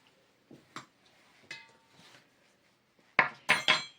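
A utensil knocks against a bowl while eggs and sugar are mixed for raisin cupcakes, with a few scattered taps and then three louder clinks close together near the end, with quiet gaps between.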